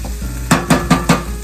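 Diced green pepper tumbling into ground beef frying in a pan, giving four evenly spaced broadband scrapes or stirring strokes over a steady sizzle, close and fairly loud with no talking.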